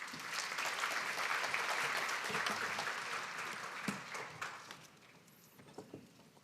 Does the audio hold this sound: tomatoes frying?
no